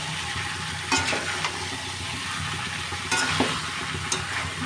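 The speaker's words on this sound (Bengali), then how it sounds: "এবার ভালোভাবে আরেকবার কষিয়ে নেব।" Snakehead fish bhuna with ripe tomatoes and spring onion stalks sizzles steadily in a pan, with a few sharper spatula scrapes as it is stirred, close and alone without talk.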